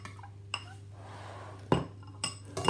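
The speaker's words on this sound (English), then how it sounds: "Get yourself a knife, give that a mix round." A knife stirs chopped garlic through melted butter in a pan, giving a few sharp metallic clinks and taps against the pan separated by quiet gaps, close and fairly loud.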